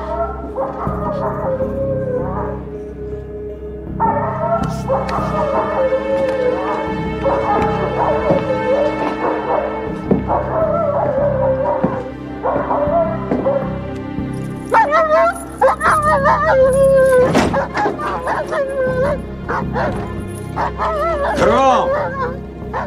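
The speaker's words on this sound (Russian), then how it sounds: "Да заткните вы уже эту псину!" A dog in a dramatic series barks, yips and whimpers continuously, close and loud, with excited whining rising in pitch, mixed with background music and raised voices.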